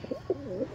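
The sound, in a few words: pigeons cooing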